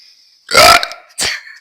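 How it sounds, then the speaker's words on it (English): Two loud, close burps in quick succession, the first longer and throatier and the second shorter, with no talking around them. "Your burps always scare me."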